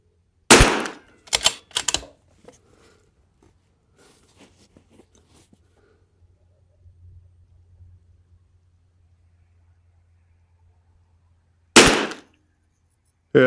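Semi-automatic CZ 457 rifle shots at a shooting range: a quick burst of several sharp close cracks, then quiet handling noises, and one more loud shot near the end.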